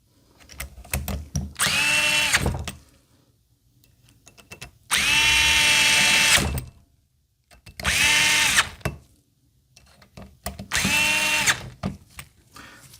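A powered driver tightens screws on the trigger guard of an FX Impact M3 airgun, four separate whirring bursts of a couple of seconds each with short gaps and small clicks between them, close up.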